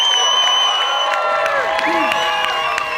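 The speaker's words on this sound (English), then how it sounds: "as you can see from the applause here" A contestant is met by an audience bursting into loud, sustained cheering and applause, with whoops and shouts rising over steady clapping, close and full for the whole moment.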